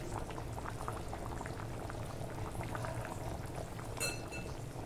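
Fish curry with fried fish pieces bubbling in a pot, a soft continuous boil with a faint clink of metal toward the end and no talk.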